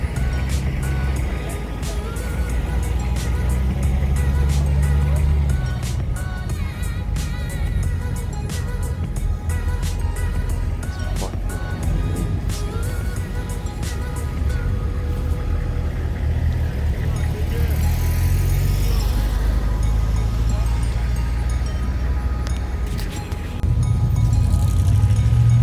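A Roush straight-piped V6 Ford Mustang at Cars and Coffee Portland drones loud and close through a long stretch, with other vehicle noise, beeps and some voices around it.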